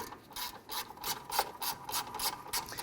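A hand ratchet snugs a bolt on a bracket during alternator replacement on a 2006-2012 Toyota RAV4 3.5L V6, giving a steady run of close, fairly quiet clicks in a regular rhythm with no talk.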